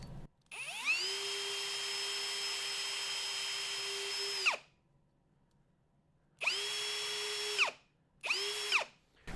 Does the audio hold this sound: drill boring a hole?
yes